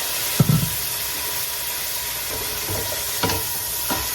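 Bouillon hits a hot pan to deglaze it for spicy Mexican pozole, and a sharp burst of sizzle rises before settling into a steady hiss, with a few utensil scrapes and taps following, close up.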